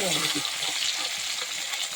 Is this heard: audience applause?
no